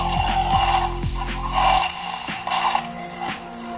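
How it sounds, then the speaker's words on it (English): A Jurassic World Roarivores Ankylosaurus toy produces a growling sound effect: a rough, snorting rumble over pulsing low tones that stop partway through, followed by raspy growl bursts. "Some growling sounds, just can't really tell."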